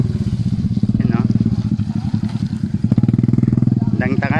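Motorcycles on a trail give a loud, continuous engine drone close by, with people talking over it.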